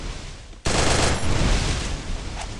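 Sudden burst of gunfire in Free Fire, a loud rapid spray of automatic shots that starts abruptly and rattles on steadily, close and dominant, no talk over it.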